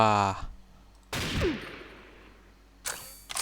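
Shots from an HK Sakura gun in the Xshot shooting game, two sharp, separate bursts with a fading tail between them, close and fairly loud, and a voice speaking briefly at the start.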